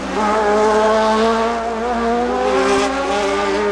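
Toyota Atlantic open-wheel race cars in the 1990 Toronto race, several engines screaming together at high revs in a loud, continuous, slightly wavering roar near the end of the race.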